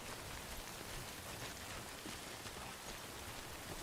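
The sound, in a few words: rain falling in video game Death Stranding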